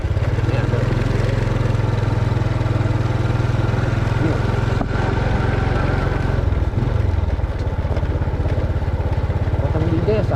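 A motorcycle ridden by day along a city street, Jalan Sentul in Pematang Siantar, puts out a loud steady engine drone with a brief dip and change in pitch partway through, with a voice talking over it.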